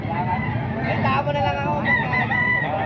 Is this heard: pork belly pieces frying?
no